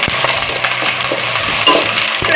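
Two sprigs of curry leaves crackle and sizzle in hot oil for Erode-style Pallipalayam chicken, a bright, steady frying hiss with short popping bursts, close and loud, no talking.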